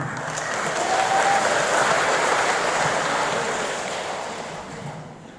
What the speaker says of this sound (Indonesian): Tepuk tangan untuk mama-mama.